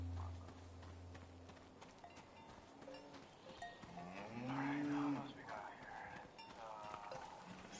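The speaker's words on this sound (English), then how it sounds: "It's a Japanese cow?" A cow in the farming video game Season: A Letter To The Future gives a long, drawn-out moo midway through, fairly close, over faint background ambience and soft clopping; no one speaks over it.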